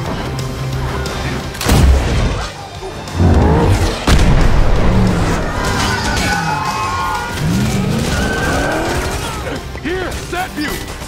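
Gunmen fire at a presidential limousine during a movie car chase, sharp bursts and booms cutting through engine roar, screeching tyres and a dense action soundtrack.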